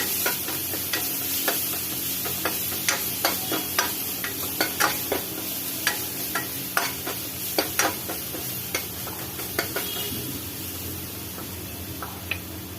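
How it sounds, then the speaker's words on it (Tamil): Ground ginger, garlic, shallots, green chili, pepper and cumin being sautéed in a pan for coconut milk rasam: a steady low sizzle with regular spoon taps and scrapes ticking through. "இப்போ அதை அப்படியே நல்லா வதக்கிக்கலாம்."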